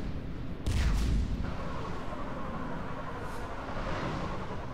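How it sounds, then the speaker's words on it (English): A single deep boom of big guns firing on a perimeter in Mass Effect 3 cuts in near the start, then settles into a low rumbling battle background at moderate loudness. "Have the guns punch a hole in the perimeter, then launch shuttle one. Fire!"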